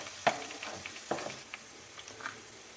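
Kerala-style mango pickle mixture is stirred in a frying pan, soft scraping and light sizzling with a few brief knocks, fairly quiet and close.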